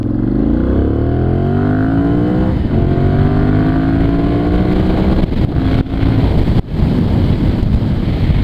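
Motorcycle ride on a Monster bike with strong wind roar buffeting the microphone, engine note rising through the gears as it accelerates, loud and steady with brief dropouts near the end.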